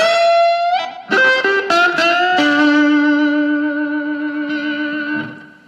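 An electric guitar played with a brass slide, notes gliding between pitches with long ringing sustain and a slightly processed, effected tone.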